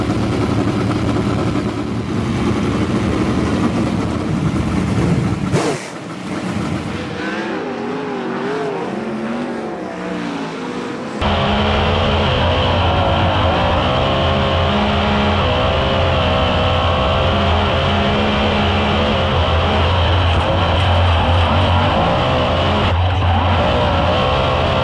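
Sprint car engines running during an engine heat at a New Zealand sprint car race, a loud continuous roar of several cars with rising and falling revs, heard close and unbroken throughout.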